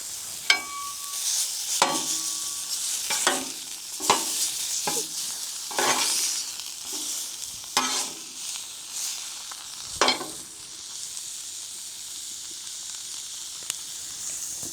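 Seasoned pork sizzling on a Blackstone griddle at a riverside campsite on the Mississippi, a steady close frying hiss broken by repeated scraping and stirring strokes every second or two.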